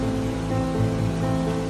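Heavy rain pours during a flood in Saudi Arabia, a dense, steady rush of water that stays loud and even throughout, with no voices.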